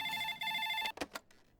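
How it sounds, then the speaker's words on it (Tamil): A telephone rings in a Tamil movie scene, a steady electronic ring repeating for most of the moment before cutting off, followed by a few faint knocks. "வேலு, அந்த ஃபோன் எடு. ஃபோனை காணோம், எங்க வச்ச?"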